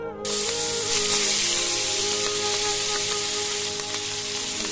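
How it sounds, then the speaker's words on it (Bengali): Hilsa fish pieces coated in turmeric and salt fry in mustard oil, giving a steady, close sizzling hiss that starts abruptly and continues evenly throughout. "এখন আমি ভেজে নেব।"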